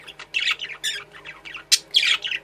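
Roughly seven budgerigars in a flight cage, squawking and chirping close up in quick, overlapping bursts of harsh chatter with no talking.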